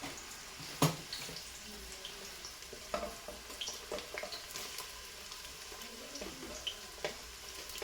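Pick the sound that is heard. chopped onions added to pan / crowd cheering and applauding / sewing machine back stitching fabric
chopped onions added to pan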